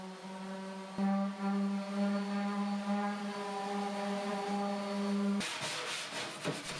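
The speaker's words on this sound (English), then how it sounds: "Now I'm sanding everything with 180, and we're going to blend these stains in." A wooden buffet being sanded with 180 grit sandpaper: a steady, loud power-sander hum with a constant buzzing pitch and rough abrasive rasp, shifting to harsher scraping near the end.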